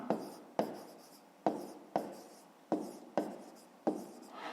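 Pen writing an answer in a fifth-grade maths exercise, a quiet series of seven short strokes, each starting with a sharp scratch and fading, at an even rhythm.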